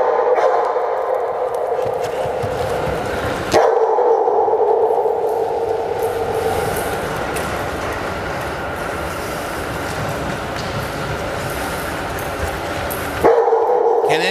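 A dog barks amid steady rumbling background noise resembling a passing train, with loud sustained sound broken by short pauses.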